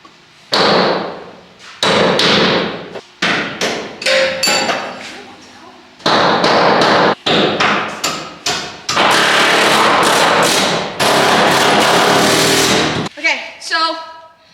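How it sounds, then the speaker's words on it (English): An air hammer knocks out stuck, rusty body bolts on a 1978 Ford Bronco in loud, close, repeated bursts of rapid impacts, with pauses between bursts and a longer sustained run near the end. "air hammered the ones that were stuck"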